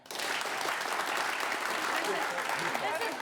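Improv comedy audience clapping without whoops, steady crowd applause throughout at moderate level with some voices faintly mixed in underneath.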